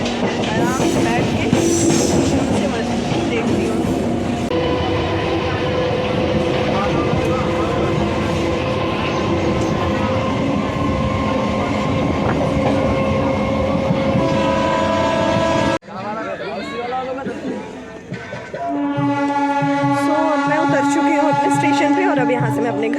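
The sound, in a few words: train departing from station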